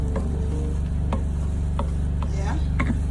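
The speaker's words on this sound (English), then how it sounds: "Started to fry, as you can see." Steady sizzle of eggs frying in a pan, with a few clicks and taps of a wooden spoon stirring through it.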